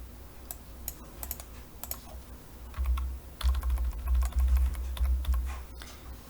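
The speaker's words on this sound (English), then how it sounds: "let me type this out so I'll have it" Typing on a computer keyboard, a quick run of close, crisp key clicks that comes in uneven bursts, with a heavier low thumping underneath partway through.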